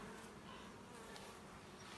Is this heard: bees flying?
yes